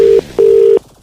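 Two loud steady telephone dialing tones, a short one then a longer one, played over a phone line ahead of a prank call, with no voices.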